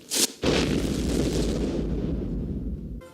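Bomb hidden in a Christmas package detonates in a 1990s Christmas movie: a sharp initial crack, then a massive deep blast that rumbles on for nearly three seconds before cutting off abruptly.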